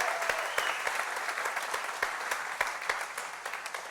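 A church congregation applauds Jesus during a sermon, a sustained round of clapping from many hands that gradually thins toward the end.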